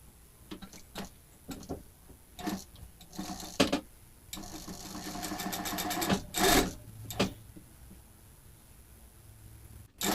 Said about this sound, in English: I am now completing the French seam.